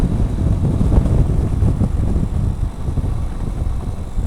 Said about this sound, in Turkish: Vallahi her taraftan rüzgar esiyor.